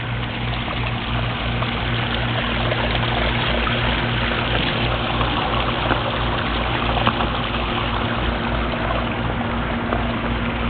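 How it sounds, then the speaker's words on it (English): Steady, continuous rush of water from a garden waterfall spilling into a pond, an even broadband wash with no pauses, fairly close, with no voices. "I'm gonna cross over the waterfall"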